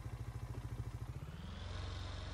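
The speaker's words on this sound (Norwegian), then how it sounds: "Hør på den da, liten motor." A small engine in the farming game Farming Simulator 19 chugs in an even, rapid pulse, then revs up into a smoother, higher drone near the end; quiet and up close, with nothing else heard.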